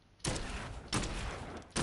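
Gunshots from the Dead Island 2 video game: three sharp, loud blasts spaced roughly evenly over a couple of seconds, with no talking.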